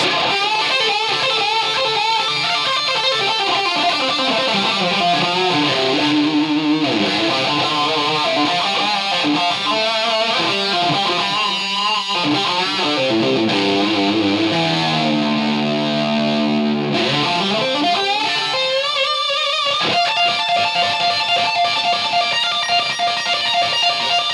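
An electric guitar through a Line 6 Helix with overdrive and delay plays a long, fluid lead line with bends and sustained notes, echoing delay trailing behind, loud and alone throughout.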